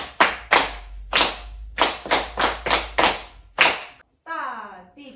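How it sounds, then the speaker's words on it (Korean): A group claps a rhythm together in a Kodály solfège class: sharp, close handclaps in a patterned sequence of about ten strokes with short and longer gaps, ending with a brief voice. "선생님 지금 박수로 친 거 여러분이 다 같이 박수로 한번 쳐볼게."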